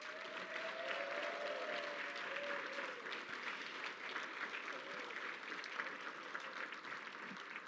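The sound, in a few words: audience applause at a scholarship award ceremony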